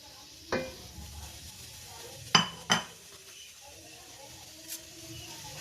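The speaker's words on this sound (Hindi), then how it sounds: "और साथ ही इसके मैं चिकन डालने लगी हूँ" Chicken is added to a pan of browned onions with garlic and ginger paste for Lahori murgh chanay. A few sharp clanks and scrapes rise over a faint, quiet sizzle.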